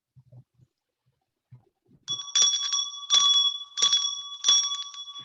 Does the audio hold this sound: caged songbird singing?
no